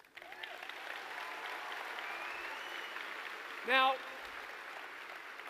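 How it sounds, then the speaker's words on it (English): Steady, moderate applause from a crowd at the 2022 BC Summer Games opening ceremonies, continuing evenly with a brief spoken word near the end. "We can give her a round of applause."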